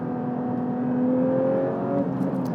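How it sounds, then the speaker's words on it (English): A Porsche 992 GT3 with a manual gearbox sustains a loud engine note, rising and shifting in pitch as an automatic throttle blip smooths a downshift, close and without any voices. "The first one is the auto blip on the downshift."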